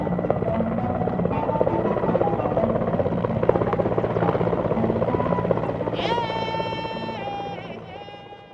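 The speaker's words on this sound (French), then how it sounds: "avant d'être évacués par hélicoptère" A Malian armed forces helicopter evacuating wounded soldiers beats loudly and close with a steady rotor chop, and a rising turbine whine joins it near the end as the sound slowly fades.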